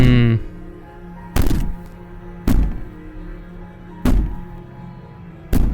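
Four heavy, isolated thuds of a door being banged on, spaced about a second or more apart, sit loud over a low, steady ambient drone in the video game Slay the Princess.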